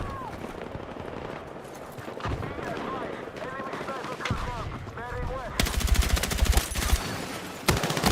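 In an online shooter video game, gunfire rattles in rapid bursts and long automatic strings, with a denser, louder stretch near the end, under a player's talk.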